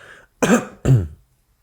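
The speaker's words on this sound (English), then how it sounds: "I seem to have a little bit of a dry cough while I'm just talking to you today" Two short, dry coughs in quick succession, close and fairly loud, with brief silence after.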